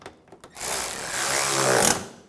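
A power tool runs steadily for more than a second, tightening bolts on the headlight washer pump of a 2009-2013 BMW 328i xDrive. A few short clicks come before it.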